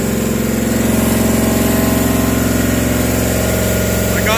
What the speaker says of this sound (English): I got the RPM up right now, braking in the cam.